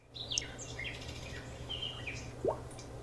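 Forest birdsong sound effect played through a Govee Table Lamp 2 Pro speaker: several high chirps and short whistled calls scattered over a soft steady background hum, fairly faint, with no talking.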